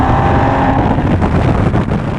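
A high-mileage Porsche 996 911 with just over 101,000 miles idles and runs, a steady engine drone with a faint whine, heard close and continuous with some wind buffeting and no talk.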